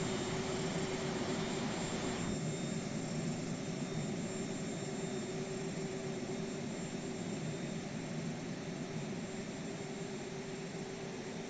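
Steady roar and thin high whine of a simulated Boeing 737 right jet engine idling after start in X-Plane 11, constant and close, with a slight shift in tone early on.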